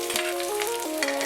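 Chopped shallots, chilli and curry leaves sizzle and crackle in a hot pan, a close, steady frying hiss with a few sharper pops, no voices.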